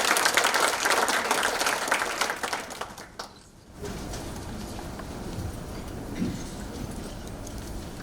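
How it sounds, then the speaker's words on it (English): An audience gives sustained applause for the mayor of Bruges at a Peace Boat visit in Zeebrugge. Dense clapping fills the first few seconds, fades briefly, then gives way to lighter clatter and crowd noise. "Applause for Dick Defoe,"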